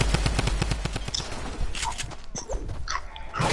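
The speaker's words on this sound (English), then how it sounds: "I'm shooting it down, I'm sorry." Rapid automatic gunfire rattles out in a dense, loud burst as a structure is shot down in a video game, followed by scattered shots and game noise.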